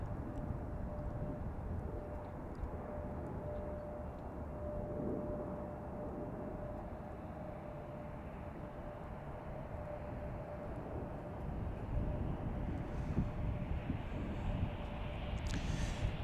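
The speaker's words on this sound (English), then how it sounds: "This is United Airlines Flight 2061 from Orlando, landing on 28 Center here." A United Airlines Airbus A321neo lands on runway 28 Center at Chicago O'Hare, heard as a steady, distant jet roar with a low rumble. The roar swells slightly toward the end, and there is no talking.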